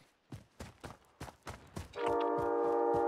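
Video game train sounding a loud, steady horn that starts abruptly and holds, after a run of evenly spaced footsteps.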